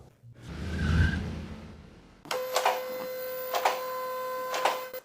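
A shop vehicle lift starts raising a GMC Canyon pickup: a brief rushing rumble, then a steady electric motor hum with a few louder clunks as the truck climbs, no talking.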